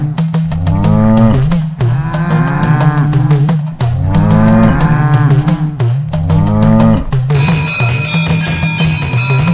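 Cattle moo loudly and close in a continuous run of long, deep, drawn-out calls, several overlapping and repeated one after another, with a brighter ringing tone entering near the end.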